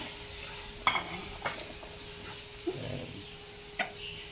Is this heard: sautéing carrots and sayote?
yes